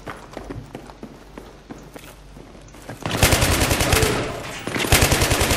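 Machine gun fire in the shooter game Battlefield 3, starting with scattered single shots and footsteps, then breaking into loud, rapid sustained bursts with a short pause before a final burst.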